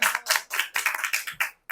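Sharp, close clapping from a small group at a Bible study session, in quick irregular bursts that stop abruptly near the end.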